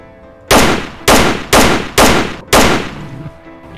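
Five loud gunshots from the original, unmodded game audio in The Armed Zone, a first-person shooter. Each sharp, close report is followed by a short decaying tail, spaced at roughly half-second intervals.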